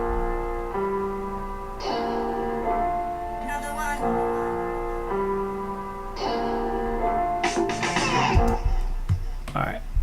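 A sampled guitar lick plays as a repeating melodic phrase with sustained tones and bright plucked attacks, with some percussive hits toward the end.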